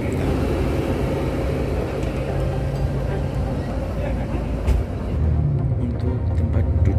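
Inside a night bus travelling from Bali to Klaten, a steady low engine and road drone fills the cabin, with faint rattles, a brief knock, and a shift in engine pitch near the end.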